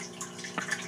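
A pond pump pushes water through a clear plastic hose into the top of a 55-gallon aquaponics barrel, giving a soft continuous trickle with small bubbling splashes, close and faint with no talk.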